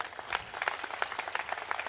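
Applause from the audience at a Hindi poetry gathering, offered as birthday wishes for an editor: a quiet, fairly distant patter of many hands clapping steadily, with no voices over it.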